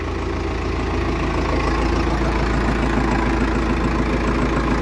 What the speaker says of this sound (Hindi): आवाज़ देखो इसकी, चार सिलेंडर कितनी प्यारी है, बिल्कुल गाड़ी जैसी आवाज़ निकाल ला।